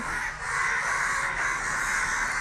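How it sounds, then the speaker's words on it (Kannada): Many crows caw together in a dense, continuous, loud chorus of harsh overlapping calls with no gaps, close by and with no talking. "ಬಹಳಷ್ಟು ಕಾಗೆಗಳಿಲ್ಲಿದೆ ಇಲ್ಲಿ ನೋಡಿ ಇಲ್ಲಿ ನೀವು ಇಲ್ಲಿ ಹಾರ್ತಾ ಇರೋದನ್ನ ಗಮನಿಸ್ಬೋದು ಆ್ಯಕ್ಚುಲಿ ಇದು ಯಾಕೆ ಹೀಗೆ ಕೂಗ್ತಾ ಇವೆ"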